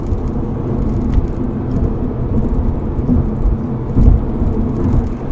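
A Subaru BRZ engine downshifting, heard as a loud, steady, close rumble with a brief swell near the end and no voices.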